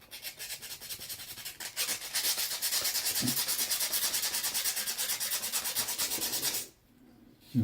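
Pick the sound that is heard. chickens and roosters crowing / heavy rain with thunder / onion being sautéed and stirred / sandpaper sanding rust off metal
sandpaper sanding rust off metal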